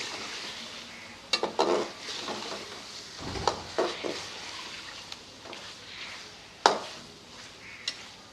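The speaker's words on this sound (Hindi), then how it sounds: "पाँच 6 मिनट के लिए इसे इस मसाले में भून लेंगे।" Chicken with a cauliflower being roasted in masala in a pan, giving a steady low sizzle with scattered scraping and stirring clatters, a few sharp clinks standing out, and no talking.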